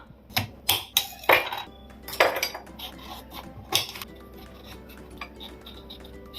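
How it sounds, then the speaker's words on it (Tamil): A knife cuts and peels a medium-sized ridge gourd, making a run of sharp, irregular taps and scrapes against a board that come close and clear, then thin out toward the end. "பீர்க்கங்காவை நம்ம கட் பண்ணிட்டு தோல் எடுத்துக்கலாம்"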